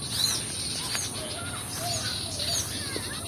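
Birds call in agitated alarm in foliage where an owl may be perched, with thin chirps and short whistles scattered over a steady background hiss and no talk.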